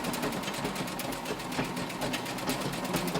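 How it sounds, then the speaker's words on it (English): Sewing machine running a zigzag stitch across an apron, a fast, even mechanical chatter held close and steady throughout. "Just gonna throw up that zigzag stitch right across the top."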